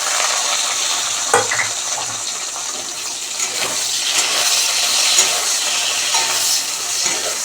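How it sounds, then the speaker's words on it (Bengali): Eggplant crackles and hisses in hot oil in a wok, a dense, loud, continuous sizzle broken by a few sharp clatters and spatters. No voices. "তেলটা গরম হয়ে গেছে, বেগুনটা দিয়ে দিলাম।"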